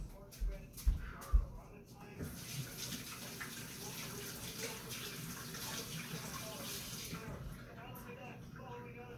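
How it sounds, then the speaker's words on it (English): Hands are rinsed under a running kitchen tap while baking corn bread and banana bread: a steady splashing water stream after a few knocks, with a person talking over it. "Now I'm going to rinse my hands off."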